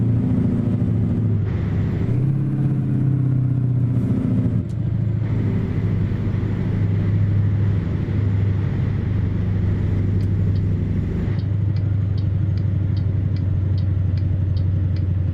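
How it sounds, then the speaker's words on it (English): A simulated Caterpillar 3208 diesel in an International F-5080 truck in American Truck Simulator rumbles loud and close, its pitch jumping sharply at several downshifts before settling into a steady revving drone. "that aggressive downshift is the way it's programmed. It knows it needs revs."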